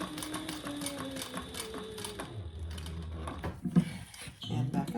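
A sewing machine stitches across the bottom of a fabric shoulder bag, a steady mechanical whirr running close and continuous, with a few louder knocks and thumps toward the end.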